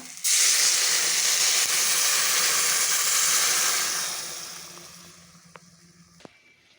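Water poured into a hot pan of spiced curry bursts into a loud, rushing steam hiss that holds for several seconds, then gradually dies away to quiet, with a couple of small clinks near the end.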